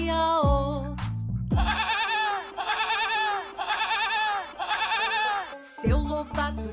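Sung imitation of sheep bleating in a Brazilian Portuguese children's farm song, rhythmic repeated 'mé' syllables over bright instrumental accompaniment, voices singing throughout with short harmonic phrases.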